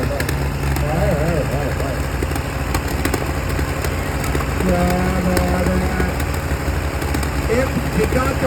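A motorcycle engine fitted with a wide silencer idles steadily throughout, a continuous low rumble with people talking over it.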